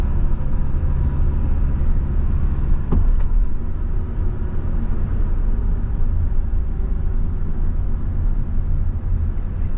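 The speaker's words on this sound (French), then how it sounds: "On accélère et on va lâcher l'accélérateur." A car engine hums steadily during a driving lesson, a low continuous near rumble with a brief click partway through and no clear rise in pitch.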